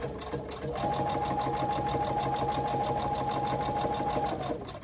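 A sewing machine runs steadily for several seconds, stitching a D-ring onto a pouch with mismatched thread, its needle pounding in a fast even rhythm, close and loud with no talk.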